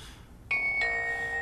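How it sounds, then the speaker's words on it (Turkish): A mobile phone ringtone starting suddenly with two steady electronic tones, the second joining the first and holding, over a low background hum with no talk. "aga bugün deli telefonu çalıyor ya"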